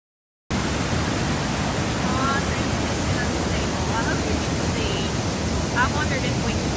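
Blackwater Falls in West Virginia roars in winter, a dense, loud, unbroken rush of falling water that starts abruptly and carries a few faint voices.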